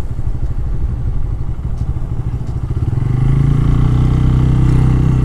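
A Walton N160 motorcycle rides along a road at night, its engine a close, loud, steady rumble that rises into a stronger, more even drone after a few seconds, with no voices.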